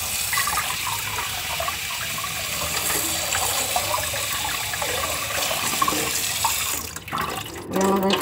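Water pours steadily onto a freshly repotted Phalaenopsis orchid, a continuous close splashing and trickling stream that cuts off near the end.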